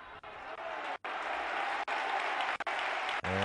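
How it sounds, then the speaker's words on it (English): Ironic applause from the crowd at a CB Avenida vs Yekaterinburg women's basketball game after a missed three-point shot, steady dense clapping across the arena with brief dips, no talk. "And again, the mock applause"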